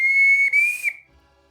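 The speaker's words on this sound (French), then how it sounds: "un sifflet un petit peu aigu qui fait relativement mal aux oreilles" A carrot carved into a whistle with a narrowed bore gives a piercing high whistle that holds steady for about a second, dips briefly midway, then fades out, close and loud.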